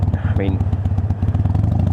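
Harley Sportster motorcycle fitted with a Bassani Firepower slip-on exhaust, its engine holding a steady low rumble close by for two seconds, with someone talking over it.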